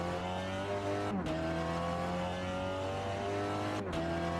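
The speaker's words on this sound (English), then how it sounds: "you can save a front-wheel drive car just by dumping the throttle all the way down" A Volkswagen Golf GTI TCR front-wheel-drive race car roars at full throttle on a circuit. The engine drones loud and close, with two brief gear-shift dips breaking the steady howl.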